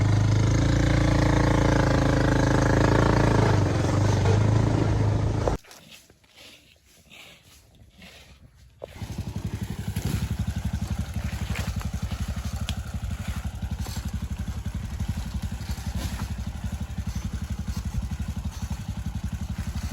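A motorcycle engine runs with a loud, deep rumble at first, drops away for a few seconds, then settles into a steady, slightly crackling idle that continues to the end.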